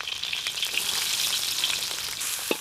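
Chopped onion frying in hot oil for Chinese chow mein noodles, a steady close sizzle with soft crackles and small pops throughout, no voices.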